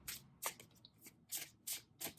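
Tarot cards being shuffled over the hand, a quick rhythm of about six crisp riffling bursts close up, with no talking.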